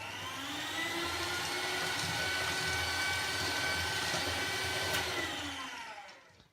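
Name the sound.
small electric hand mixer with dough hooks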